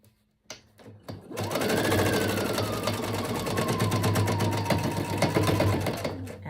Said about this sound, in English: and keep sewing. Just want that lined up exactly.